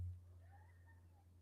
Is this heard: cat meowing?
yes